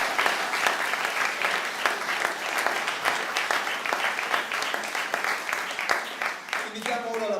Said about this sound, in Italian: vi chiedo un fortissimo applauso